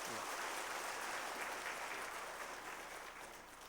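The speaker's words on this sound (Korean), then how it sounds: "우리 뜨거운 박수로 축하하겠습니다" A church congregation at a Sunday worship service claps warmly in a dense, sustained burst that slowly fades toward the end.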